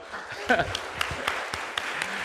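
A church congregation at a Sunday worship service gives brief, scattered applause, with a speaker's voice cutting in near the start.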